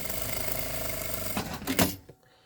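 A sewing machine stitching printed bag lining fabric, face to face: a steady, close mechanical whirr that runs continuously, then a brief louder clunk as it stops, leaving near silence.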